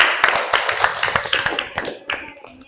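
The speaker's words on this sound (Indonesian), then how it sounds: "Oke, tepuk tangannya dulu." A group of schoolchildren clap their hands together in a classroom, a dense burst of brisk, uneven claps that gradually thin out and stop over a few seconds.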